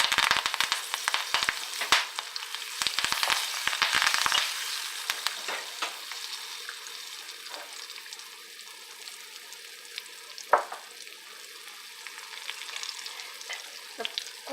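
Asafoetida, onion and curry leaves frying in oil, starting with sharp spattering crackles and stirring, then settling into a softer, steady sizzle with occasional pops.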